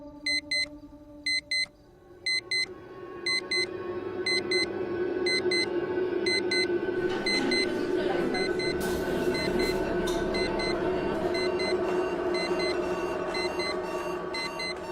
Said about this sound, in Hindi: ये अलार्म बंद ही नहीं हो रहा है।